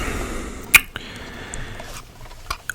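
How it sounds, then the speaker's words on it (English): A 1950s camera firing, a single sharp shutter click with mirror slap, followed by a few softer mechanical clicks and taps from the camera body in a quiet room. "like that little click sound, is the sound of what is known as mirror slap, which is the mirror in the camera body"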